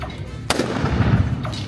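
A hammer firecracker loaded with potassium chlorate and sulfur goes off at the San Juan de la Vega hammer festival, one sharp, very loud blast followed by a rumbling echo and a faint second pop.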